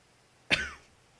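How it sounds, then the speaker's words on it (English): One sharp, muffled cough from a sick person close to the microphone, a brief burst that fades within a fraction of a second in an otherwise quiet room. "I have no way of muting my mic when I cough"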